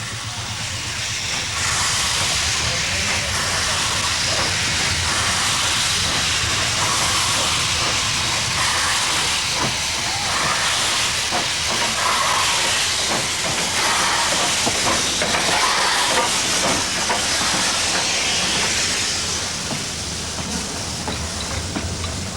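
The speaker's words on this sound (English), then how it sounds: "Wherever you are in India, when the train comes, everything stops for the train." A steam train pulls into a station in India with a loud, continuous hiss of escaping steam, rattling and rhythmic clatter from the cars rolling close by, no talk over it.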